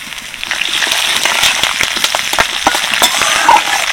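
Cumin seeds, two dried red chilies, a pinch of hing, chopped ginger and curry leaves sizzle in hot white oil, a steady close crackle with sharp spits and pops throughout.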